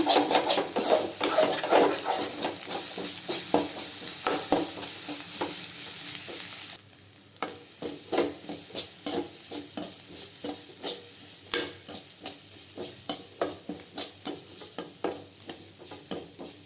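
Egg poriyal with pepper, cumin powder and chilli powder being stirred in a frying pan, heard as a steady sizzle, then a rhythmic series of close spatula scrapes and taps against the pan, repeating about once a second.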